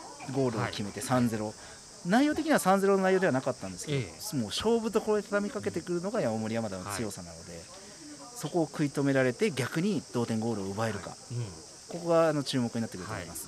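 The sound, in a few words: cicadas chirping outdoors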